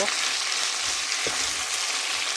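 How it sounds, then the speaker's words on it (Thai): Cabbage and pork belly stir-fry with roasted chili paste in hot oil, producing a loud, continuous sizzle close by, broken by a couple of brief scraping stirs. "ผัดผักกาดหมูสามชั้นน้ำพริกเผา"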